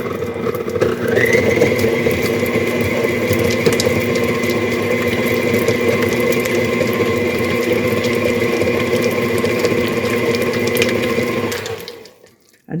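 An electric mixer creams Crisco shortening and butter for a vintage SunDrop glazed pound cake, a steady whirring, grinding motor drone with a rising whine that runs unbroken and close, then cuts off near the end.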